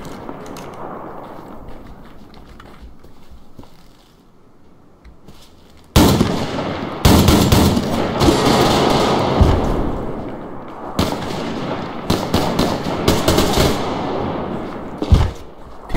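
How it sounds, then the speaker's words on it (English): Shotgun blasts in the online shooter Survarium, a quiet stretch giving way to a run of loud, booming shots with dense firefight noise between them, several heavy reports clustered from the midpoint onward. "To be honest, I really like this shotgun."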